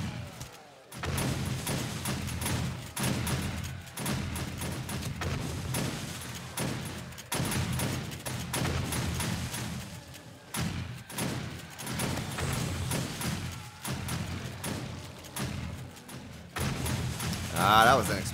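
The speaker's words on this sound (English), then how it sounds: "Ah, that was an explosion." Explosion in the survival video game 7 Days to Die, a loud, rough burst amid a dense stretch of gunfire-like blasts and booms that rises and falls over about eighteen seconds.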